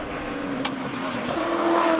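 Ford Mustang race car launching up a hill climb course, a steady engine drone with a rising, harder-pulling note toward the end, moderately close with crowd-free ambience.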